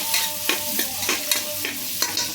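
Green chillies and onions frying in oil in a pan, a constant close sizzle broken by regular scraping taps of a spatula stirring about every half second.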